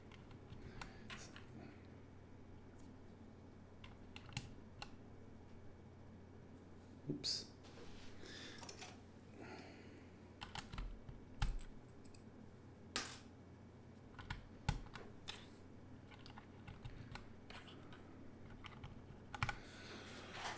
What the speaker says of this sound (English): All right, let's do a quick typing test.